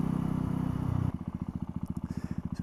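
A 2018 Mutt Mongrel 250 motorcycle with a 250cc engine runs at low revs. A denser engine drone gives way to a steady, evenly pulsing thump, close and loud, with some mechanical clatter.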